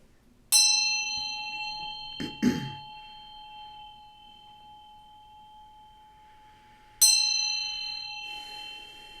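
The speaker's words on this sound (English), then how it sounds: "I'm going to ring this bell to bring in some good vibes here" A bell is struck twice, several seconds apart, each strike a bright, clear ring with a long shimmering decay. A brief soft knock falls between the two strikes against otherwise quiet surroundings.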